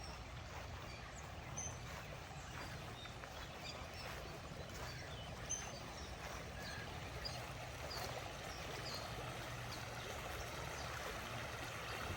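A small waterfall at a limestone spring fishing preserve runs as a steady, broad rushing and trickling wash of water, close and continuous with no talk over it.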